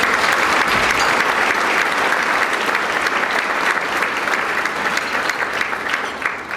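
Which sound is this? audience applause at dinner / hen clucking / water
audience applause at dinner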